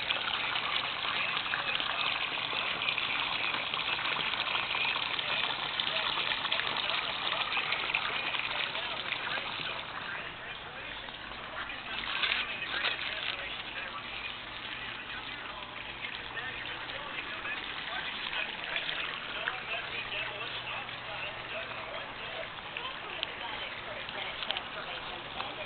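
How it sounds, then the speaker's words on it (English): Creek water pumped up through a line pours steadily into an outdoor pool, a continuous close splashing gush that runs unbroken and eases slightly partway through. "that's the water coming up from the creek, going into the pool"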